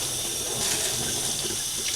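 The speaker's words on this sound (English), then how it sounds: "run the hot water, or warm water actually" Warm water pours steadily from a kitchen sink tap over corrugated cardboard, making a loud, unbroken hiss and splash that lasts the whole stretch with no voices.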